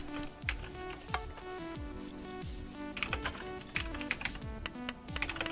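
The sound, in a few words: typing a command on a computer keyboard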